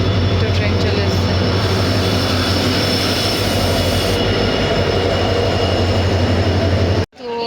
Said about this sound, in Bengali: বারিসাদ্রি যাওয়ার জন্য ট্রেন চলে এসছে ফাইনালি।